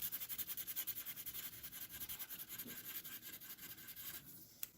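Faint, steady rubbing of a colour blending pencil over paper, soft rhythmic strokes repeating quickly during a step-by-step drawing of a copper teapot, with no voices.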